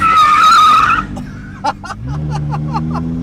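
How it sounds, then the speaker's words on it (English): A car skids through an e-brake turn with a loud, close tire squeal lasting about a second, followed by engine rumble and short bursts of voices or laughter. "do an e-brake"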